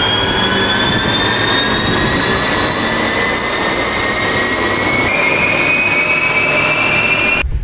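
A Kia Seltos on a dyno roars at high revs with cooling fans running, a loud, sustained engine drone whose whining tones rise steadily, dipping briefly near the end.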